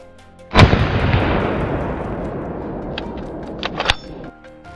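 A single loud gunshot cracks out during a wild boar hunt in lowland country, followed by a long rolling echo that slowly decays, with faint rustling and a few small clicks near the end.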